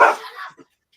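A dog lets out a single sharp bark close up, followed by a short trailing yip, loud and alone.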